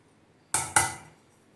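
Chopped onion drops into ground pea lentil batter in a bowl, two quick close clatters in succession, the second slightly louder, then silence.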